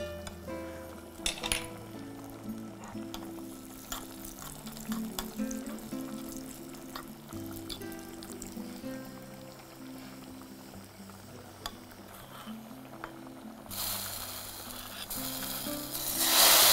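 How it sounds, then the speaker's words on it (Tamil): Raisins roasting in a pan while a Tamil dish is cooked: steady sizzling and frying under clinks of a utensil against the pan, with a brighter burst of sizzle near the end. "அடுத்து இதில் திராட்சையை வறுத்துக்கலாம்."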